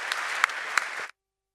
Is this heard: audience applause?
yes